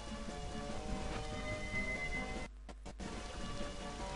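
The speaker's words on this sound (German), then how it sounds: "Ah, es regnet." Steady rain in the video game The Legend of Zelda: Majora's Mask, a continuous soft hiss of falling drops with a faint background hum and a brief dip midway.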